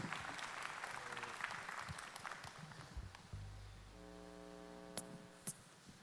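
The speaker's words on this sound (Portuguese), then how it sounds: "Aplauda o nome do Senhor." A church congregation claps in a dense, fairly faint wash that fades out partway, followed by a sustained low organ-like tone and a couple of sharp knocks.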